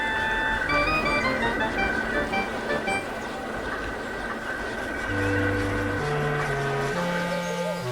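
An animated steam engine pulls into a station platform with a rolling rail rumble, a whistle sounding early on, and steady tones that step lower toward the end, loud and continuous.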